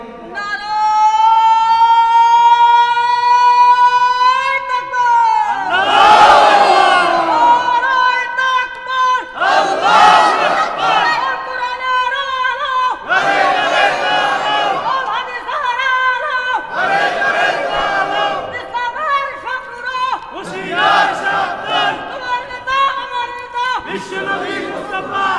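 A gathered crowd at an Islamic sermon shouts the takbir 'Allahu Akbar' in unison, answering a preacher's call; several loud, rhythmic chanted bursts repeat across the span, a lone voice leading at first.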